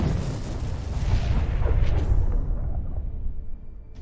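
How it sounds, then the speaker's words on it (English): A kamikaze drone strikes and destroys a tank, unleashing a loud, sustained roaring blast with deep rumble and crackling debris that slowly fades out, with no voices. "The kamikaze drone successfully copes with this task and gives us spectacular fireworks."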